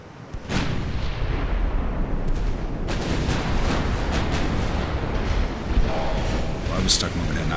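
Naval guns fire in the Ultimate Admiral: Dreadnoughts battle game, with several sharp booming shots scattered across a steady rumble of wind and sea, and a voice talking now and then.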